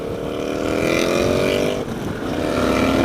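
A 2016 Motus MST motorcycle engine strains under load while riding, a steady close drone with harmonic tones that dips briefly, then climbs again as it revs in gear.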